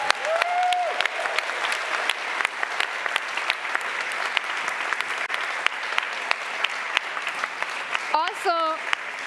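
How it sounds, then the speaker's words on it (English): Audience applauding steadily at the closing session of the histoCON 2022 history conference, a dense, sustained clapping that fills the whole stretch, with a brief voice near the end. "An applause to you."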